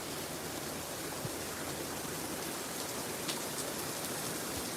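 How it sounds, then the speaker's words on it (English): Steady rain falls outdoors in a wind-blown downpour, a dense even hiss with scattered close drips and patters, heard alone without voices at a moderate, constant level. "I'm not getting out of the rain."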